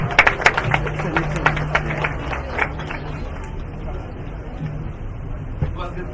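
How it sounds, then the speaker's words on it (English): Audience at a National Transformation Alliance public meeting in Trinidad and Tobago clapping, with sharp claps loudest in the first two seconds and then settling into steady applause mixed with crowd murmur. "Give him a round of applause."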